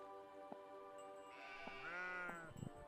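A single drawn-out sheep bleat in the video game Old Man's Journey, quiet and a little synthetic, over soft background tones and light pattering.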